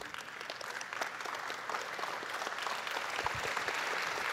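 An audience at the 11th Global Festival of Spiritual Sciences opening ceremony claps for the masters, a steady wash of many hands that swells slightly toward the end, moderately loud and without talk.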